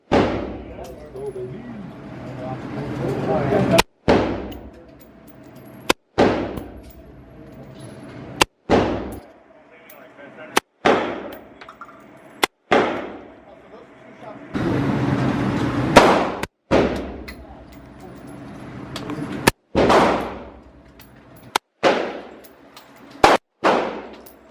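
Gunshots at an outdoor gun range from 9mm and .45 ACP handguns and a 5.56 rifle: sharp, loud single cracks at irregular intervals, each followed by a short decay, with people talking between shots.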